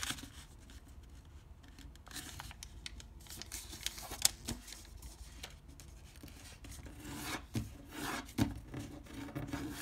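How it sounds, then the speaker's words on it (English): Paper is folded and creased for an origami skull, with quiet rustling, rubbing and crisp little creasing snaps that come close up and irregularly. "fold this edge to this crease"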